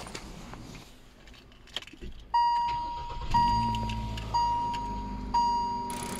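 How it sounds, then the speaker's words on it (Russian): A donor car's engine cranks and starts for a jump start, with a chiming warning tone and faint clicks and rattles before it catches, then the engine settles into a steady idle close by. "заводим автомобиль донора"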